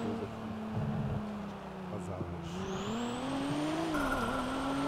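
Car engine from a video game, a steady droning hum with rising and falling revs and a faint tire squeal, running continuously beneath the game's other sounds.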